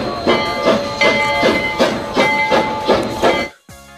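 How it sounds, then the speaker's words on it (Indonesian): Toy Thomas train running with a steady rhythmic clatter, about eight evenly spaced clicks with a faint whistle-like tone, close and fairly loud, stopping abruptly near the end. "di sini ada kereta api"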